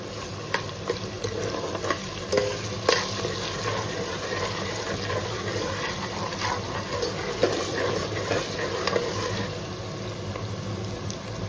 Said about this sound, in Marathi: हे 2 मिनिटं आलं लसूणचा उग्र वास कमी होईपर्यंत फ्राय करून घेऊ.